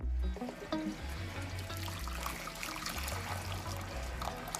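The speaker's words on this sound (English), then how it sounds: "I'm pouring some hot water into my pot right here" Hot water being poured into a cooking pot, a soft continuous trickle and splash under steady low background music, fairly quiet throughout.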